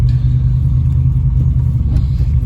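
A Dodge Ramcharger's engine running at a steady, loud low rumble, close by and constant for a couple of seconds with no voices.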